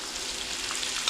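One pound of 80% lean ground beef frying in a pan, a steady close hiss of sizzling fat that stays even throughout, with no speech.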